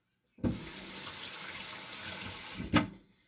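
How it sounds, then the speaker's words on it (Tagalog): Hands being washed under a running kitchen tap, a steady close rush of water lasting about two seconds with a splashy burst at the start and again near the end as the flow is shut off. "just going to wash my hands"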